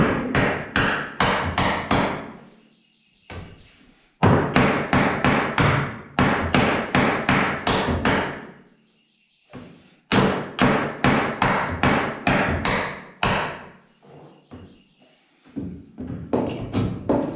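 Framing hammer driving nails into the loft framing of a 12x20 shed shop, struck in rapid bursts of five to eight loud, close, ringing blows, with short gaps between each run.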